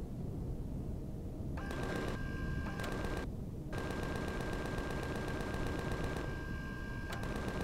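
Enemy gunfire in the video game Empyrion Galactic Survival, rapid repeated shots in bursts over a constant low rumbling game background.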